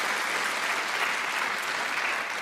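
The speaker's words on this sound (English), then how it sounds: "a round of applause." Church congregation applauding their senior pastor. It's a dense, continuous wash of clapping at an even, fairly loud level throughout.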